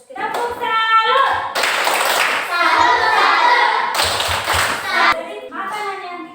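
A school class doing a rhythmic clapping chant (tepuk salut) during a lesson, bursts of patterned claps and thumps mixed with children's voices chanting.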